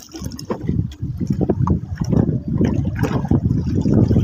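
Paddle strokes push a small boat through choppy water against wind and waves, with steady splashing and gurgling close by and a few irregular strokes standing out over the continuous water noise.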